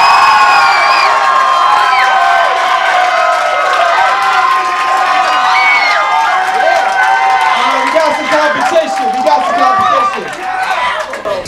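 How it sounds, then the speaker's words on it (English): An audience at an art battle in the Bowery Poetry Club cheers, whoops and shouts in a loud, continuous roar with scattered clapping underneath, easing slightly near the end. "So clap it up real loud for Ed Gowan's piece,"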